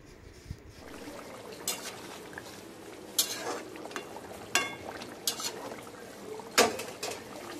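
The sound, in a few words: stirring fish into curry with spatula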